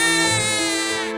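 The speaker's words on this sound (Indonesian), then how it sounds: "Itu suara bayi." In a horror animation, a baby wails in one drawn-out, high, strained cry, loud and close, that trails off at the end.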